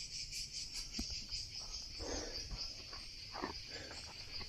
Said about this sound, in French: Et pour les deux Sévriens là qui savent pas ce que c'est des cigales, c'est ce qu'on entend là.